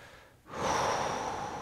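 A deep, drawn-out breath taken during a glute mobility stretch, a brief quiet pause and then a long, steady exhale heard close and alone.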